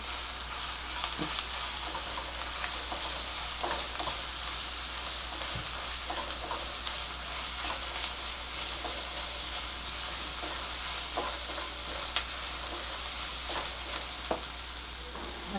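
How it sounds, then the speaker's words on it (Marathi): Ginger-garlic-chili paste sautés with onions in a pan, giving a continuous soft sizzle broken by scattered stirring scrapes and taps, with a low steady hum underneath and no talk. "एक चमचा आलं लसूण मिरचीची पेस्ट ती छान परतून घ्यायचे कांद्याबरोबर"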